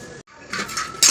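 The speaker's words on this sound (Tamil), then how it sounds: "இப்போ வந்து ஒரு கிளாஸ் தண்ணி ஊற்றிக்கலாம்" A glass of water is poured into a blender jar of papaya juice: a brief clink and a pause, then a steady splashing pour that ends in a sharper final splash, with no talking.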